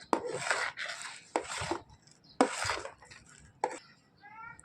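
Dry fruit is stirred into a sticky jaggery mixture for laddu, giving several close, rough scraping and rubbing strokes in separate bursts with short pauses between them.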